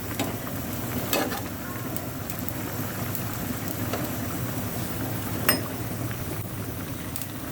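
Hilsa and eggplant curry with a little turmeric sizzles and bubbles steadily in a pan, with a few faint scrapes and clinks of stirring. There is no talk.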